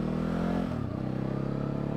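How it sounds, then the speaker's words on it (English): A 2019 Ducati Hypermotard motorcycle exhaust drops from a revving roar to a lower, pulsing burble, the engine note chugging steadily and fairly quietly. "I do like the grunty exhaust"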